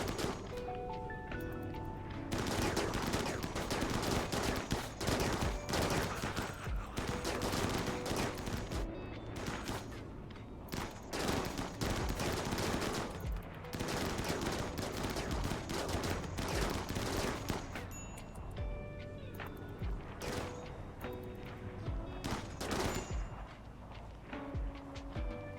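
Electric rifle gunfire in the video game Rimworld, a long, loud, sustained barrage of rapid shots with brief lulls between bursts, running steadily for the whole stretch without any talk.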